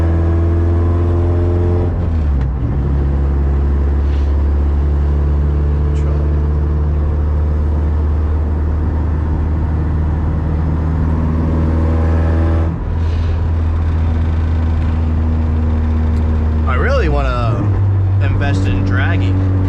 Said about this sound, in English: when I step on the gas it actually wants to go